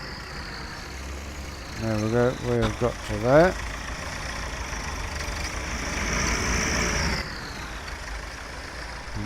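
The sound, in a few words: tractor engine driving through gateway in Farming Simulator 17 video game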